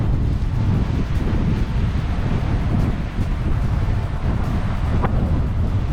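Heavy wind buffets the microphone throughout a road bike ride, a loud continuous low rumble with gusty surges and no speech.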